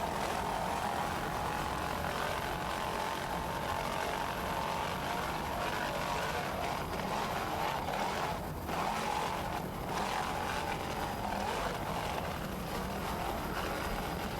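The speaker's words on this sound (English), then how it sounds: "Just listen to those two 600 horsepower Bandit inboards." An offshore racing powerboat driven by two 600 horsepower Bandit inboard engines roars past during a 1993 Virginia Beach offshore grand prix, a sustained, fairly distant broadband drone heard alone.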